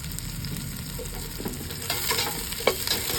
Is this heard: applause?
no